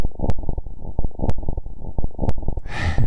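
Synthetic tones sonified from a city horizon photo, a band-limited rumbling texture looping with sharp broadband clicks about once per second, shifting into a brighter hiss near the end, no talk.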